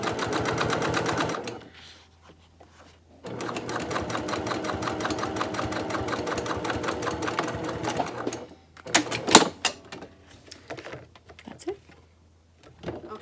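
Side connectors for a crossbody bag pass through a sewing machine in two steady runs of rapid, even stitching, close and clear, broken by pauses and a few clicks and handling knocks as the fabric is moved.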